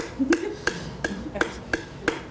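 Six crisp metallic taps from a cross-peen hammer anticlasting a metal shell, struck at a steady, slightly uneven pace, close-up and isolated with a faint low hum between blows.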